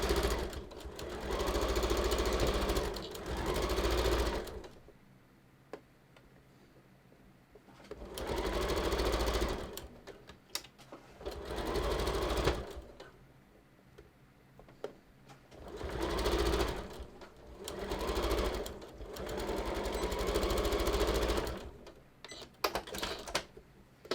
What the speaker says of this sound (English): All right, so let's go to the machine and sew those.